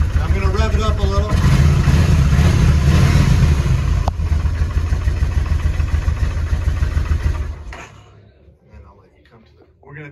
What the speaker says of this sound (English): I'm gonna rev it up a little.